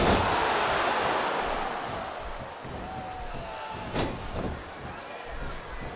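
A wrestling arena crowd cheers in a broad, loud roar that gradually eases, with a sharp slam-like hit partway through.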